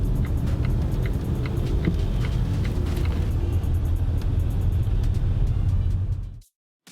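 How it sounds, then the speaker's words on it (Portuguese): Cabin of an electric car driving in rain, with a steady low road rumble and faint patter of raindrops alongside the light ticking of a turn signal, continuous and fairly quiet until it cuts off abruptly near the end. "Esse barulho que vocês ouviram era todo o barulho que eu consegui ouvir dentro de um carro elétrico"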